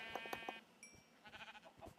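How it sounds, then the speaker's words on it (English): Sheep in the video game Minecraft bleat in a few short, quiet calls mixed with faint game sounds. "Sheep alert."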